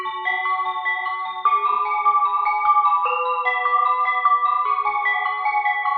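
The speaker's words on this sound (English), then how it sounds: "whereas a downwards arpeggiation will sound dark." A synth arpeggio steps downward in repeating note patterns, bright and slightly processed with a chorus-like shimmer, playing steadily without any voices.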